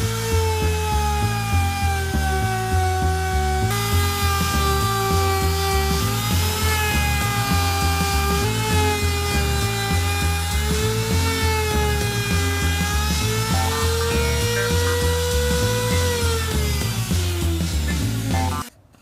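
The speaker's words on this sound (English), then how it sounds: "I'm going to start with this 1/2 inch round bit" A pantograph router fitted with a half inch round bit cuts into cedar, a loud, steady high-pitched whine with rhythmic pulsing as the bit moves through the wood, close and continuous, stopping abruptly at the end.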